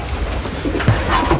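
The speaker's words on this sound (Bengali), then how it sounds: "এই যে আমার কবুতর" A domestic pigeon coos once in a loft on a rainy morning; the coo is short, low and close, set against a soft background hum.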